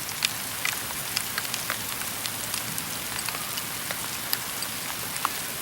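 Steady rain patters on a surface, with scattered sharper drips and taps over a soft constant hiss; fairly quiet, no voices.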